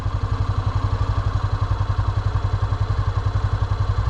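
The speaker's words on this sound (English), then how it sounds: "slowly, and I have to emphasize, very slowly, let out your clutch until you start hearing a winding sound from your motorcycle" A beginner motorcycle's engine runs at a low, steady idle while the clutch is slowly let out, with an even, rapid thumping rhythm close by and no voices.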